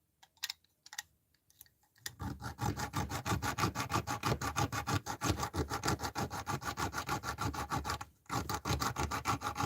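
A diamond wire saw cuts through a metal padlock with a steady, fast back-and-forth rasping, close and continuous. A few scattered scrapes come before it, and the sawing breaks off briefly near the end before starting again.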